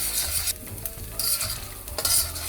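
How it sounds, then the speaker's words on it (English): Garlic and ginger sautéing in a pan over medium-high heat for a broccoli and prawn stir fry, with a steady sizzle broken by several stirring scrapes and rattles, close and fairly loud, no talk. "I sauteed my garlic and ginger for a minute."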